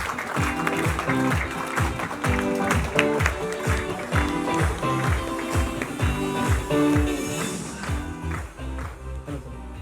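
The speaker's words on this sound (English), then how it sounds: "Huge round of applause, guys." A live audience at an Indian TV event claps loudly and steadily, with rhythmic beats and music running under the applause throughout.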